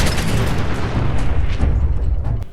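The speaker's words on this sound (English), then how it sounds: "The artillery's a little bit better, though, because you have a little bit more control over it." Minutemen artillery barrage in Fallout 4, a loud continuous rumble of booming blasts that roll together without a break.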